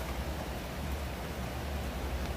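Light rain falling while the sun is out, a soft steady hiss of drops without a break, faint and even.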